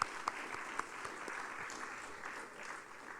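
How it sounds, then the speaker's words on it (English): An audience applauds the Vice Chancellor at a university event, a dense, steady patter of clapping that starts with a few sharp claps and holds for several seconds. "I think we should give our Vice Chancellor a round of applause"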